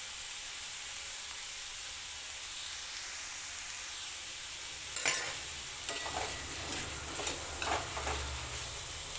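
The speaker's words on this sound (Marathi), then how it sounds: "आता मिक्स करून घेतलं हळदी सगळं टाकलं आता तर मस्तपैकी आता कोथिंबीर टाकून घेते" A vegetable dish with turmeric and coriander being stirred in a pan: a quiet background sizzle, then from midway several distinct scraping and clinking stirs, close by and with no talking.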